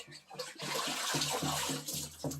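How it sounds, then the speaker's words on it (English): Deer hides being lifted from water and moved into a bucket, with broadband splashing and sloshing that runs almost continuously, loud and close, in repeated surges with brief pauses. "just transferring the hides into a bucket"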